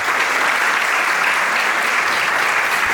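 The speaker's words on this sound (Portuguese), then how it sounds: "quero pedir uma forte salva de palmas para todas vocês e todos que participam deste evento" A crowd at an event gives loud, dense, continuous applause, steady and unbroken, with no voices standing out.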